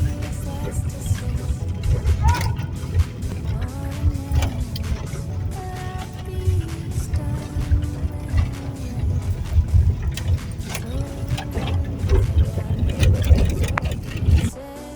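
A car drives along with a low rumbling engine and road noise throughout, the pitch shifting as it moves, with scattered clicks and knocks from inside the cabin and a faint voice in places.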